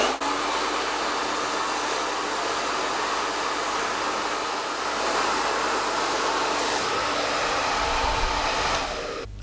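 A hair dryer blasts continuously at close range while drying hair, a loud steady rushing whoosh with slight shifts in airflow and no talk over it.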